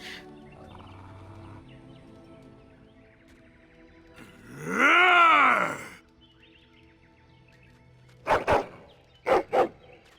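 A war dog in Dragon Age: Origins lets out a long, loud howling bark in the middle, followed later by two short, sharp barks, against a quiet game backdrop.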